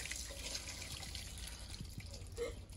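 Kitchen tap water running while chicken is rinsed under it, a faint steady trickle with small splashes and knocks.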